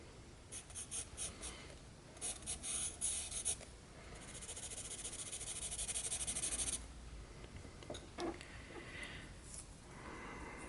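A 4B pencil scratches across paper in bursts of short strokes and longer shading passes, close and fairly quiet, with pauses between.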